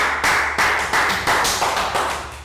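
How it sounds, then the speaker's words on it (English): Small classroom group clapping for a pupil during a Year 3 maths lesson, a few close, uneven bursts of hand claps that start and stop in short waves over a couple of seconds. "Round of applause for Annette"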